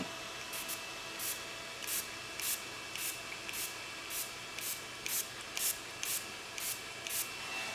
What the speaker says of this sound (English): go ahead and spray generously with the Urban Decay All Nighter